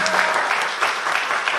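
Congregation clapping during a Sunday worship service at GBI Pantai Permata in Batam, a short, loud, even burst of applause with a faint sustained tone beneath.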